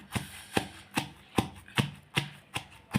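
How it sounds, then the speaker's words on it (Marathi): Raw mango thecha is pounded in a mortar and pestle, eight evenly spaced heavy thuds in a steady rhythm, close and distinct. "मी आता इथे लगेच ठेचा आपला छान प्रकारे खलबत्त्यामध्ये कुटून घेऊया"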